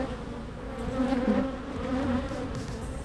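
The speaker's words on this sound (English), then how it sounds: "That's a lot of bees in there." Honey bees in a hive super drone in a dense, continuous buzz, close and steady with no talking.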